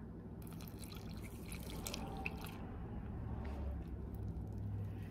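Milk poured into apple fritter cake batter, a soft, steady liquid pour with faint dripping over low background noise, no talking.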